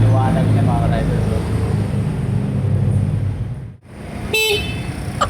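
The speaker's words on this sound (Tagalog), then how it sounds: "Ang lakas pala ng busina." A EuroMotor VperMan 150 FI underbone motorcycle's horn gives a single loud, brief toot outdoors near the end, following a stretch of talking over background noise.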